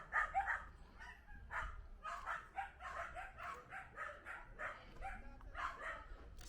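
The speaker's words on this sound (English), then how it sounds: "Yeah, you have some dogs." Several dogs bark repeatedly in a Jamaican neighborhood in Oracabessa, St Mary, their yaps and woofs overlapping in a steady, moderately close chorus over outdoor background noise.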